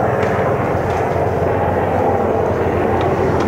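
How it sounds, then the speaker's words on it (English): A helicopter passes overhead with a loud, steady broadband rotor and engine roar that holds constant throughout, with no talking over it. "that helicopter really does pick up"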